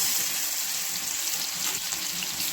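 Ginger, garlic and chili paste frying in hot oil gives a steady, close, bright sizzle that holds evenly throughout with no voices.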